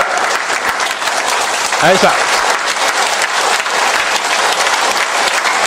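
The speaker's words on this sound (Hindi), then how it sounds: "जोरदार से तालियां बजाएंगे ध्यान से।" Audience applause breaks out at the close of a meditation session, a dense, steady burst of clapping filling the room from start to finish, with a brief voice cutting through the middle.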